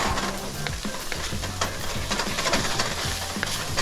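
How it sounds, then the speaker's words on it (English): Water hisses in a hot pan as a spatula scrapes the browned fond from the bottom while cooking chili, a loud, continuous sizzle with scraping throughout. "the water will allow you to scrape the rest of that fond off the bottom"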